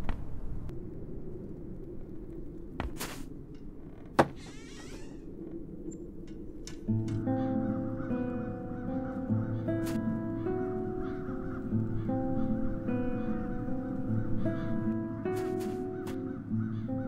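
Crows caw in the video game The Dark Eye: Chains of Satinav, harsh calls over an ambient drone, followed by soft melodic game music with occasional sharp clicks.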